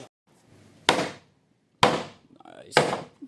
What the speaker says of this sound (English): we're hammering that thing out of there